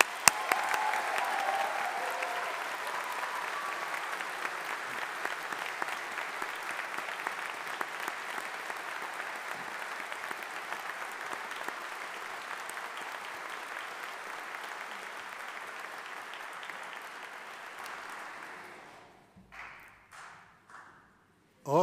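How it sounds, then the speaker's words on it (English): Sustained, dense applause fills a hall for summer 2025 Faculty of Engineering graduates, holding steady for most of its length before thinning into a few scattered claps and silence. "Let's give our summer graduates of 2025 a big round of applause."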